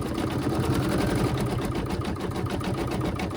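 Steady, fast mechanical whirring and rapid needle chatter from an embroidery machine stitching a bright yellow flower design, running continuously and close up with no talking.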